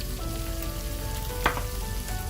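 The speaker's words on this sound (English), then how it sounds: "So once the ginger garlic paste is about half cooked, we're going to add our tomato" Steady sizzle of ginger garlic paste frying in a pan for South Indian chicken biriyani, with tomato added, a close, continuous hiss broken by one brief louder crackle.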